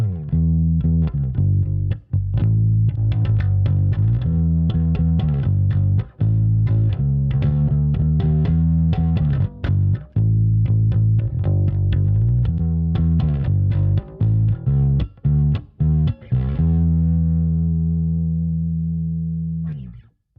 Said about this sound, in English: It's the SGT. SGT. Super grid technology. That's a kind of overdrive.